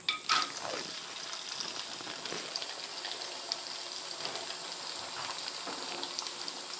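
Onion sandige, sun-dried fritters made with onion and green chilli, frying in hot oil give a soft, continuous sizzle and bubbling with occasional crackles and stirring clinks, fairly faint and close, with no talk.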